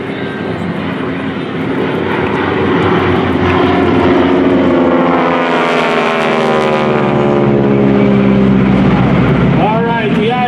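Droning propeller warbird airplanes roar past at an airshow, the engine pitch sweeping downward as they pass overhead; a person talks over the loud rumble.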